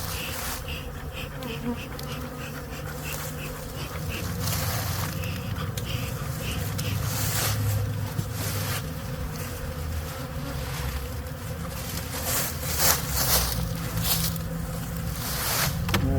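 Honey bees swarm and drone around an opened hive box, a dense, continuous close buzzing that swells and fades as individual bees fly past, with no talking.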